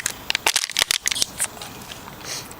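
A plastic water bottle is crunched by hand in a quick burst of sharp crackling crinkles, several loud clustered crunches followed by fainter rustling, with no talking.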